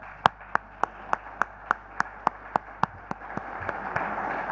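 A small audience at a 2013 corporate event claps in a slow, even rhythm of about fourteen distinct sharp claps, close and fairly loud, with no talking. Near the end the claps thin out into a faint, noisy murmur.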